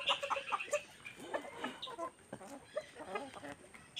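Hens cluck and chatter in a coop, with several birds calling over one another at close range and occasional sharper squawks throughout.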